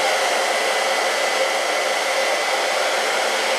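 A hair dryer runs steadily and loudly in a woodworking shop where a stacked scrap-wood heart is being made, its broadband whoosh unbroken and alone from start to finish.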